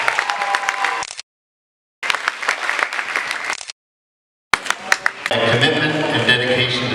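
An audience at a high school award ceremony applauds athletes in a crowd-wide clapping that drops out twice into silence, then returns with clapping and cheering over a voice.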